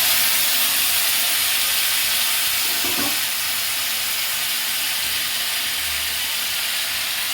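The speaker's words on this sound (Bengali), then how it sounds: "সেটাই একটুখানি জলটা কড়াইয়ের মধ্যে দিয়ে দেবো" Steady loud sizzling hiss from a hot kadai (wok) during cooking of an egg dish, with a brief splash of salted turmeric water poured in midway, the hiss continuing throughout without voices.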